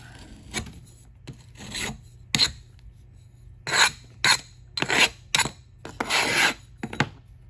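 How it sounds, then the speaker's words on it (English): Sand being scraped off a sand-casting mould, a series of sharp rasping scrapes in uneven bursts, close and clear with quiet gaps between strokes. "And we're going to scrape it off."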